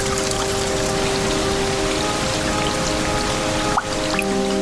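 Steady, dense patter of raindrops falling into a puddle, an even continuous hiss of many small splashes close by, with one sharper drip standing out near the end.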